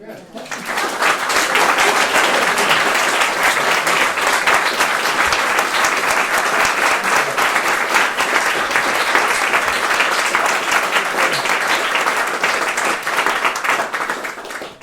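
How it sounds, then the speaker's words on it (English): A full audience round of applause at a talk on Scotland, Lithuania and Europe, steady and loud, sustained for over a dozen seconds before tapering at the end. "I think we can only conclude this with a round of applause"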